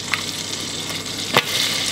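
Melted butter and milk chocolate are stirred in a pot, giving a steady soft sizzling hiss with a couple of brief scraping accents, close and without talk.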